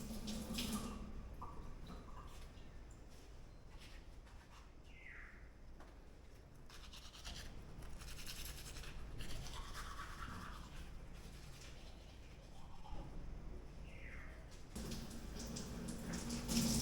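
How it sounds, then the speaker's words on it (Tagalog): Teeth brushed with a toothbrush as a water tap runs in a bathroom, with intermittent faint scrubbing strokes and splashing over a quiet background of running water, no talk. "Magtututbrush tayo mga katulits."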